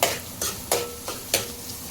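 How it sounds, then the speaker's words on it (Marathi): Onions cooking in a pan with salt, stirred in a few short scraping bursts about every third of a second apart, each with a brief sizzle, close and moderately loud with no talking. "कांद्यावरती मीठ टाकल्यानंतर ना कांदा प्रॉपर शिजते आणि व्यवस्थित मुरते त्याच्यामध्ये"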